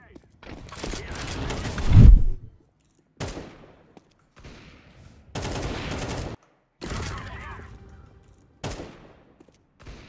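Rapid automatic gunfire sprays in bursts in a competitive shooter video game, several loud sustained volleys separated by pauses, with players talking over and between the shots.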